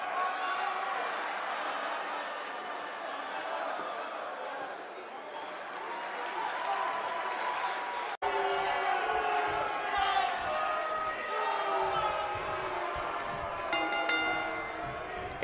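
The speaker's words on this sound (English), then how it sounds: "this Philadelphia crowd is beyond boisterous tonight" Arena crowd noise from the WWE 2K19 wrestling game, a Philadelphia audience at a Ricky Steamboat vs Roddy Piper match, a loud steady roar and cheer that runs throughout, with a brief cut midway.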